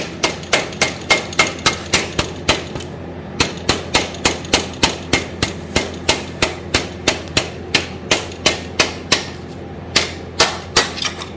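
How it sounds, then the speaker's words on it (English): Rubber mallet tapping on a part during a 1971 Yamaha RT1B 360 motorcycle restoration: a long run of sharp, evenly spaced knocks, loud and close, with brief pauses between bursts and no talk. "tap it with the rubber mallet"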